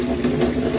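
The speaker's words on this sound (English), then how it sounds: "When it's pouring hot water out" Hot water gushing loudly and steadily from a leaking household tap, a close, continuous rushing flow with no talk.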